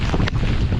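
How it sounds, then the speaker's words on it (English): Strong mountain wind gusts of 45-60 mph roar across the summit of Bald Knob near Mountain Lake, Virginia, buffeting the microphone as loud, continuous rumbling noise with one brief dip. "What way is wind blowing here?"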